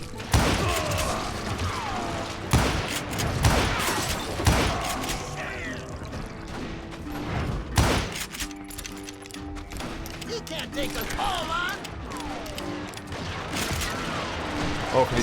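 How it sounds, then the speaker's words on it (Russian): Red barrels burst and guns fire in the Western shooter game Call of Juarez: Gunslinger, with sharp repeated shots and heavy booms over dense game noise, while a voice talks in places. "Красные бочки тут взрываются."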